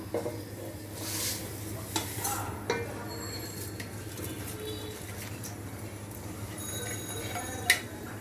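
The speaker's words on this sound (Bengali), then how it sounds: "এখন যেহেতু চালটা আমরা এখন ভালো করে ভুনবো, তেলের সাথে, পেঁয়াজের সাথে" Rice is fried with oil and onion in a pan for a fluffy white pilau, with a steady soft sizzle running throughout, a few scraping strokes and light clicks, and a faint bird call in the background.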